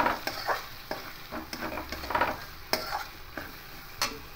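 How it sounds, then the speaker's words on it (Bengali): A spoon stirs and scrapes through ghugni in a pan as chilli, coriander and black pepper powders are mixed in, giving irregular clinks and knocks over a soft sizzle. "এবার এটা এখানে দিয়ে দেব। দিয়ে আবারও ভালো করে মিশিয়ে নেব।"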